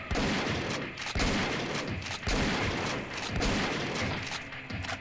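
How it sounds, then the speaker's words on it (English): Shotgun fire in the zombie-shooter game SAS Zombie Assault, a continuous barrage of loud, heavy booming blasts that overlap into a dense, almost unbroken roar of gunfire. "It has this really beefy shotgun noise"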